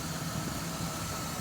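A 1986 Oldsmobile Cutlass Supreme engine idles on a cool, damp day with the choke on, giving a steady, continuous low rumble with faint vibration and no talk over it.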